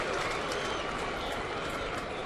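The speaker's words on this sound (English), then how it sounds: "a mock cheer from the crowd" A large baseball crowd at Yankee Stadium lets out a sustained mock cheer, a dense, steady roar of many voices with scattered clapping, heard from a distance and fairly even throughout.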